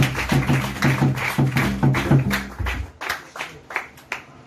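A church congregation breaks into rhythmic clapping and cheering in acclamation of Jesus, loud and close, with a steady beat that loosens into scattered claps toward the end.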